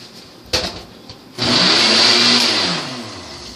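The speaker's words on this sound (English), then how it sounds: "We're going to blend it in our blender." A blender blending stock whirs loudly into a steady high-speed roar after a couple of clicks and knocks, then gradually eases off.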